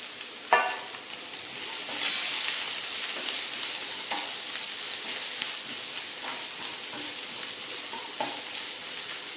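Onion, crushed ginger, dried chili, coconut pieces and curry leaves fry in a pan with a continuous close sizzle, punctuated by sharp crackles and occasional stirring scrapes.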